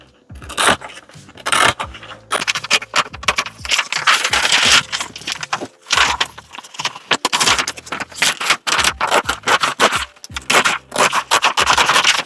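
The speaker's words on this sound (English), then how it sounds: "So I'm just gonna cut that one out." Cutting out a DTF transfer print produces loud, close scraping and crinkling of film, rapid irregular bursts with brief pauses and no talking.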